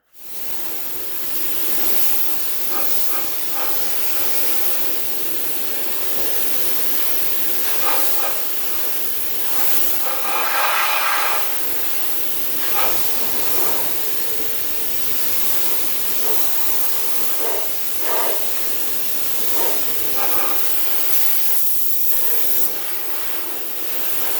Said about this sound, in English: I'm going to put that in the spray gun, and I'm going to rinse that off